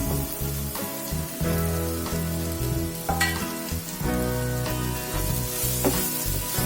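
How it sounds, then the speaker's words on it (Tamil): Cut bread sizzling and being stirred in a pan for South Indian bread upma, with a continuous loud frying crackle broken by scraping strokes of stirring and occasional clinks of the utensil against the pan. "கட் பண்ணி வச்சிருக்க பிரெட் இதுல சேர்த்துக்கிறேன்."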